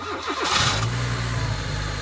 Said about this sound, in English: we're going to start the engine just to get all that